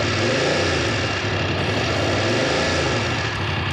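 A 900 motorcycle engine runs steadily with a dense, continuous roar, loud and close with a slight rise and fall in pitch.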